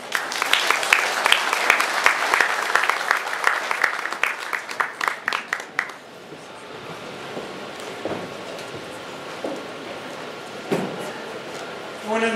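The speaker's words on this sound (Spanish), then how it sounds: "Aplausos fuertes." Loud applause at a formal civic ceremony celebrating the Lunar New Year with a mayor and an ambassador, with dense clapping that thins into scattered claps and fades out halfway through.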